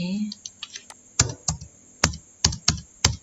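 Computer keyboard keys are pressed in a short burst of sharp, close clicks while a spreadsheet-style report is edited, several distinct presses spaced unevenly, with a voice briefly heard at the start.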